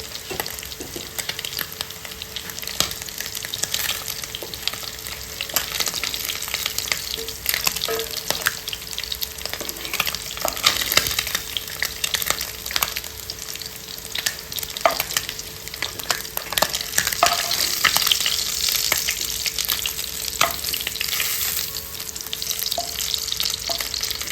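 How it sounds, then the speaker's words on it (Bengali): Fish fry in hot oil in a pan for a village-style fish curry, a steady bright sizzle with crackles and spatters throughout, close and loud. "দেখতে দেখতে মাছগুলো ভাজা হয়ে গিয়েছে"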